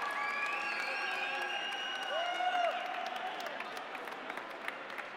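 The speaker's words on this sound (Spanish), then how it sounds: "¡Un fuerte aplauso!" An audience applauds steadily at the Robocampeones 2015 robotics competition awards, a dense wash of clapping with some tonal cheering or music threads running through it.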